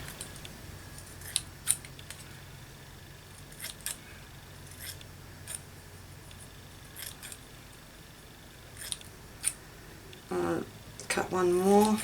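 Scissors snip through fabric strips in a quiet room, a series of short, crisp cuts at irregular intervals, with someone talking softly nearby and some brief rustling toward the end.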